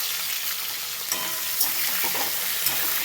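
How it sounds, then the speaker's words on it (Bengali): Chopped onions fry with potatoes in hot oil, giving a dense, constant sizzle close by, with light stirring scrapes and no voices. "এবার আমি কুচিয়ে রাখা পেঁয়াজগুলো দিয়ে দেবো। পেঁয়াজগুলো সুন্দর করে ভেজে নেব, লাল লাল করে।"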